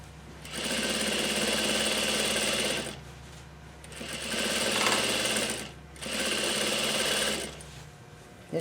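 A sewing machine stitches a rolled hem in three sustained bursts of rapid, buzzing needle chatter separated by short pauses, picking up speed, close and clear with no talking.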